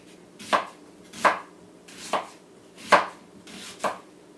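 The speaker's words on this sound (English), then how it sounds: "And we'll chop that up. Oh, what would we do without onions?" Knife chopping an onion on a board, five distinct crisp thunks spaced roughly a second apart, close and clear with no talking.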